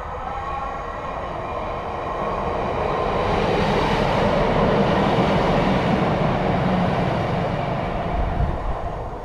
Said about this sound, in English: If you want to get the train up to Carlisle, get on that.